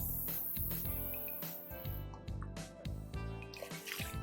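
Two cups of water poured into a soup mix, soft close sloshing and dripping splashes in uneven bursts over a faint background hum.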